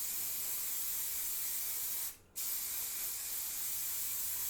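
Hairspray hisses steadily from an aerosol can onto hair, a close, continuous spray broken by one brief pause before it resumes.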